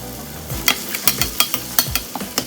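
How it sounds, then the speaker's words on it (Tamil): Tomatoes, garlic and onions sizzle in hot oil while a spoon scrapes and stirs the pan in quick, irregular strokes. "தக்காளி பூண்டு வெங்காயம் நல்லா வதங்கிட்டு இருக்கு"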